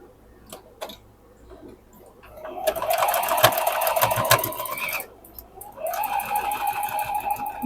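A sewing machine stitches a quilt block seam straight across in two steady bursts, the first longer, with a short pause between and faint handling noise before it starts.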